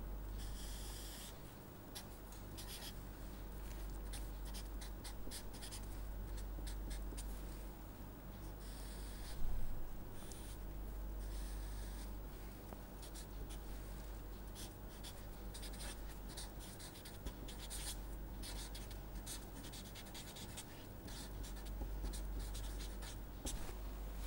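A pen or marker scratches across a surface while a filter response graph is drawn by hand in a lecture, with steady, faint strokes and short pauses and no talking.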